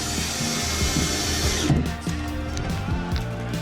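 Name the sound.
power drill running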